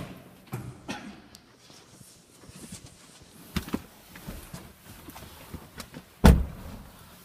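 Someone settles into the front seat of a 2017 Chevrolet Cruze with soft rustling, scattered small clicks and taps, and a single solid door thud near the end.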